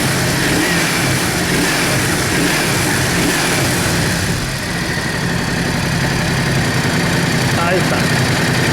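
A Yamaha Drag Star 650 motorcycle engine runs steadily after its carburetors were synchronized, idling with a loud, continuous, close-up rumble and light throttle blips throughout.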